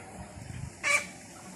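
A chicken on a rural Philippine farm gives a single short cluck near the end, briefly audible over quiet outdoor background noise after some soft low rustling.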